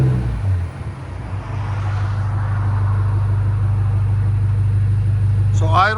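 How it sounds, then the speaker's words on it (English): A 2023 BMW XM with a 4.4-liter twin-turbo V8 running straight pipes with an X-pipe and Borla ATAK exhaust idles in a steady, loud, deep rumble that holds evenly throughout, with a brief rise near the end. "This is what straight pipes sound like"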